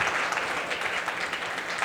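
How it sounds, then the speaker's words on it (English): Audience at a Diwali Festival of Light reception breaks into a dense, steady wash of applause, loud and sustained with no voices above it. "Can we have a massive round of applause for both?"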